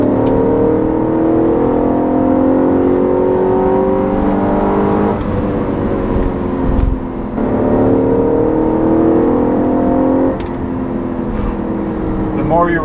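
A 2013 Audi RS5 engine revs hard and close, its steady roaring drone climbing and falling in pitch through repeated pulls, loud and continuous with no talk over it.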